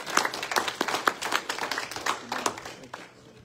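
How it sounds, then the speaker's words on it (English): A church congregation at a prophet's revival service claps hands in quick, fairly loud, irregular bursts that taper off toward the end, with a little voice underneath. "Give her a faster hand clap"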